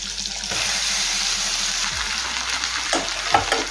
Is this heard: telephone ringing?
no